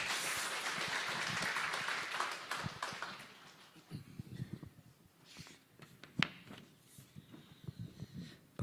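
A church audience at a Busan presbytery evangelism camp forum claps to welcome a pastor, with dense applause for about three seconds that then fades into scattered room noise and small clatters.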